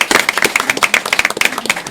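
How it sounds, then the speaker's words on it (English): An audience at a music community forum applauds, with brisk, close clapping in a quick, uneven rhythm throughout, loud and with no talking. "Can we give a round of applause to our cyber audience?"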